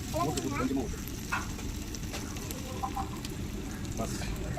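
Ginger garlic paste sizzles and crackles steadily in a hot pan, a continuous frying hiss throughout with faint kitchen clatter.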